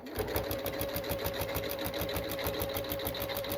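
A sewing machine runs a lock stitch through a rug, giving a steady, rapid, mechanical rhythm of stitching that continues at an even pace throughout, close and unaccompanied by talk.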